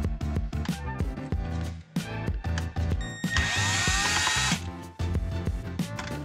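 A power drill or driver whirs for about a second while backing out the screws that hold the light board in a microwave range hood, over steady background music.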